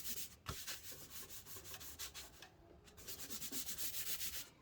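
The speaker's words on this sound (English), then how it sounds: "Smooth out your paper." Paper freshly brushed with glue is rubbed smooth by hand over a fake-flower heart decoration, giving a steady run of close, dry rubbing strokes with a short pause midway.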